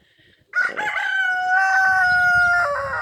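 A rooster crows once, close and loud, a long drawn-out call that holds steady before trailing off.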